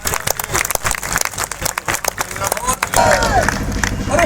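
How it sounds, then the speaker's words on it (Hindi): A crowd breaks into applause that swells and grows louder toward the end, with general room noise throughout. "एक बार सर के लिए भी जोरदार तालियां"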